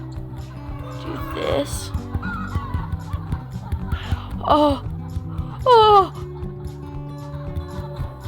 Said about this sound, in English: I shall make a tsunami of chickens.